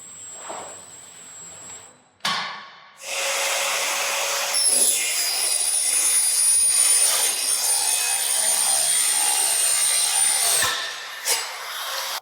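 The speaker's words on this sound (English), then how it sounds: "So I move my material forward and make the cut." Timber is cut on a profiling and angle cross-cutting machine: a brief clatter, then a loud sustained saw whine over a whooshing motor for several seconds before winding down, with a few knocks afterward.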